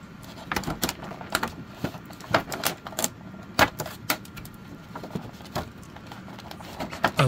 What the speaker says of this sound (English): Let's remove the strips that are on him.